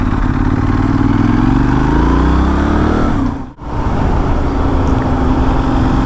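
A Benelli Leoncino Trail 800 scrambler motorcycle rides along a road, its engine drone loud and close and shifting in pitch, with a sudden brief dip as if passing under a bridge.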